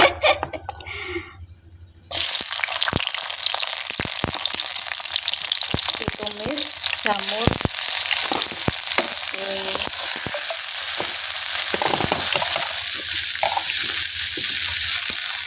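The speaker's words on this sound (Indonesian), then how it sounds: "kita masukkan baksonya iki masih digoreng" Bakso meatballs fry in hot oil with a loud, steady sizzle that starts abruptly after a quieter opening, with occasional stirring clinks and faint voices in the background.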